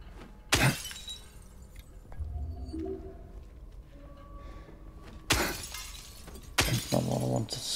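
Glass smashing inside the Silent Hill 2 Remake video game: three loud, sharp shattering crashes spaced a few seconds apart, with quieter game ambience and small debris sounds between them and no talk.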